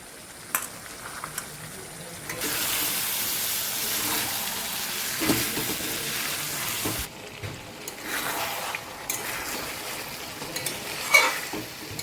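Soaked peas tipped into a hot pan of spiced masala bring a sudden loud sizzle that holds steady for several seconds, then eases off. Stirring scrapes and light utensil clinks cut in and out along the way.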